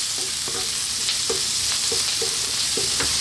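Salmon cream sauce for tagliatelle sizzles in a pan under a steady bright hiss, with a spoon scraping and stirring in regular strokes every half second or so, close and continuous.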